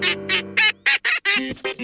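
Cartoon duck from a children's animated beach episode quacking in a run of about nine short, loud nasal quacks, steady at first, then quicker and more jumbled toward the end, with no talking.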